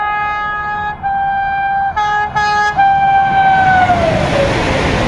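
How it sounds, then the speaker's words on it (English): A big red emergency train at Kassel station sounds a loud, sustained horn in several blasts, then the tone falls away as the train rolls past with rising rail noise. "it's this big red train here"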